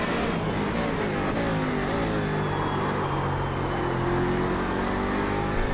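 Race car engines drone loudly and continuously in a racing video game at Mid-Ohio, with a sustained engine tone shifting in pitch as other cars pass, including Cadillacs.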